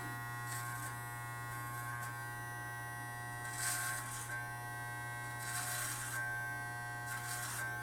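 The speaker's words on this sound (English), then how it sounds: "notice I'm going to make another design just so you can see the difference in the power of this clipper" An electric hair clipper buzzes steadily and close while cutting a design into hair, a constant motor hum with brief brighter bursts as the blades pass through the hair, and no voices.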